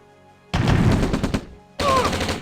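Gunfire from attacking units in Command & Conquer Red Alert Aftermath: two loud bursts of rapid shots, the first lasting about a second, then a short pause before a second burst that runs to the end.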